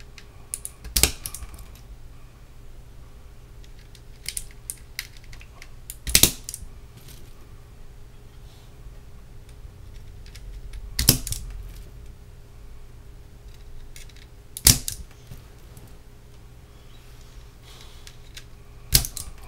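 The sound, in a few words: clicky green mechanical keyboard switches being pressed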